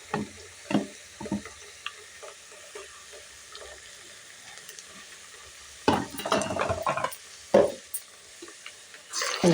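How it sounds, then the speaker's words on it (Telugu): Ginger garlic paste sizzles in a pan while being stirred during vegetable biryani cooking. Close scraping stirs and bursts of frying come in uneven clusters with quieter gaps between. "ఇప్పుడు అల్లం చిన్నులపాయ పేస్ట్ వేద్దాం"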